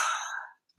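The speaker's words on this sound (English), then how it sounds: "you can make some sound with your breathing" A single loud, deliberate breath, a breathy rushing exhale lasting about half a second, then near silence.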